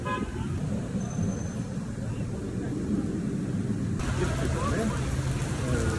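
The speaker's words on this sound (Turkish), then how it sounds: "Bizim yağış da başladı." Rain coming down in Dubai as a steady broadband hiss, with traffic noise and faint voices mixed into the wash; the downpour grows slightly louder and denser partway through.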